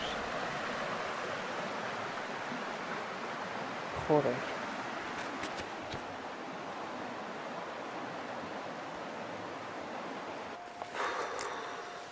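The Nalón river flows with a steady, broad rushing wash that stays constant and fairly loud throughout, with a brief word spoken and a few small knocks over it.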